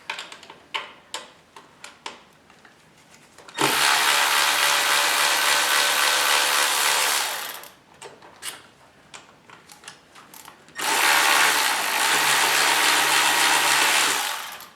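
A ratchet removes 8 mm throttle body bolts on a 2015+ Ford Mustang EcoBoost. Scattered close clicks and taps lead into two long, loud, steady whirring bursts of rapid ratcheting, with a brief pause of clicks between them.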